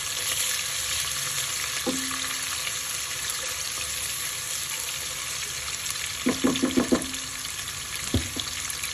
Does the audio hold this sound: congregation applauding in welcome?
no